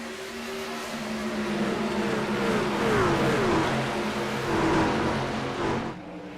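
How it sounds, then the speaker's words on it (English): Race car engines roar in a sim racing game at Atlanta, loud and continuous, with rising and falling whines as cars accelerate and pass close by. "Engines sound mean and real."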